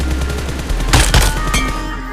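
Gunfire in PUBG Mobile during a gyroscope sensitivity test, a rapid automatic burst with a few louder shots standing out over steady game noise, close and loud throughout.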